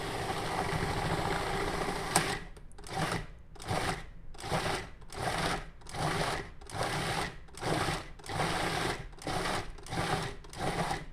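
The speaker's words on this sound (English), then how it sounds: "knew they were small enough to go in this food processor" A food processor chops chunks of watermelon for homemade ice cream, with a steady whir that breaks into a run of regular, pulsing bursts about every half second as the pieces catch and get pulled down.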